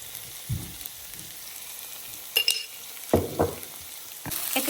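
Coriander powder frying in coconut oil for a mussel pepper roast, giving a faint steady sizzle broken by a few brief stirring scrapes and clinks, with no talking.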